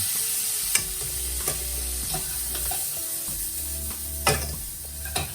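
Pasta sizzles loudly in a hot pan with slightly burnt ingredients, a constant crackle punctuated by several sharp scrapes and knocks of a utensil stirring, close up and without speech.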